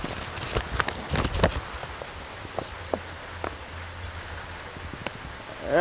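Rain patters steadily on surfaces outdoors, a dense continuous hiss with scattered louder drops and knocks, fairly close and moderately loud, with no one talking.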